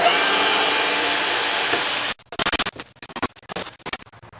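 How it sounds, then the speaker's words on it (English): A handsaw cuts through a wooden board for a seedling greenhouse build, a burst of rhythmic back-and-forth rasping strokes, close and loud, following a steady power-tool-like roar in the first half. "I'll go ahead and get a handsaw and I'll finish making that cut there"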